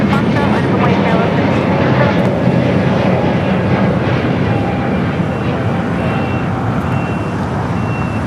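An airliner takes off from runway 25 Right at LAX, its jet engines producing a loud, steady broadband roar that stays constant and slightly eases toward the end, with a voice faintly present over it.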